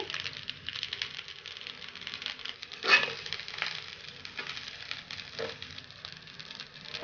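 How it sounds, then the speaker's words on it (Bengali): Rice frying in a pan with a pinch of salt added, giving a steady soft sizzle and patter with one brief louder crackle partway through, no talking. "এখানে আমি অল্প একটু লবণ দিয়ে দিচ্ছি। ভেজে নিচ্ছি 2-3 মিনিটের মতো।"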